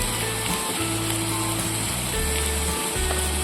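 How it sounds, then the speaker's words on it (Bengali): Pumpkin frying in a pan with turmeric, chilli powder and salt for a traditional Bengali kumror chokka, a steady close sizzle running alone throughout with no talk. "দিয়ে আবার আমি কষিয়ে নেব।"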